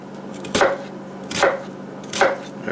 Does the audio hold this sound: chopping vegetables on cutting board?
yes